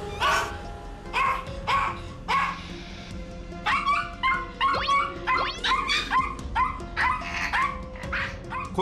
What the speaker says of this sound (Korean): 고양이만 보면 짖고 흥분하는 녀석들